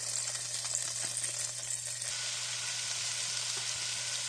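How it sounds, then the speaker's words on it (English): Ground beef sizzles and fries in a hot pan, a steady loud crackling hiss close by with occasional faint clinks of stirring. "it should be nice and hot for us to go ahead and at least toss our ground beef in"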